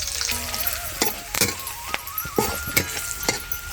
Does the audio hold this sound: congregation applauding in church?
no